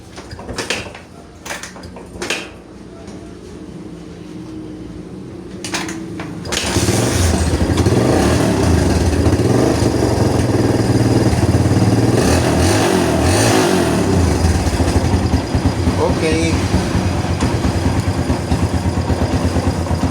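A Kawasaki Barako 175 motorcycle engine starts after a few quiet knocks, then runs steadily and loudly close by, with throttle revs rising and falling over a continuous idle; no talking.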